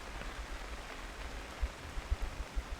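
Steady pouring rain falls over an outdoor disc golf course during a tournament round, a soft continuous hiss of drops on the surface with a few low thumps of heavier drops or wind, faint and even throughout.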